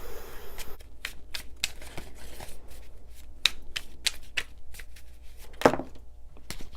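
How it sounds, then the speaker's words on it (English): Tarot cards shuffled close up, a quick run of crisp riffles and soft slaps of card against card, fairly quiet with no talking. "Let's pull one more card."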